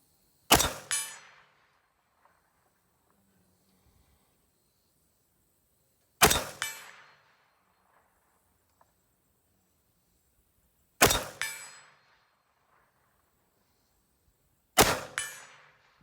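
Four loud, sharp rifle shots from a GA Precision GAP-10 firing S&B ammunition, each a crisp crack with a brief echoing decay, separated by several seconds of near silence.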